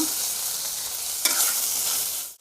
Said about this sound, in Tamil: தக்காளியும் வெங்காயம் ஓரளவுக்கு வதங்கிச்சுங்க